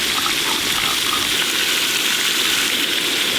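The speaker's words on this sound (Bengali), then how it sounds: "মূলো, আলু, ওলকপি আর বাদ বাকি সব সবজি একসঙ্গে ভেজে নেব। প্রথমে গাজরগুলো দেব" Carrots go into hot mustard oil alongside radish, potato, kohlrabi and other mixed vegetables, giving a dense, even sizzle that holds steady and loud throughout, with no talking.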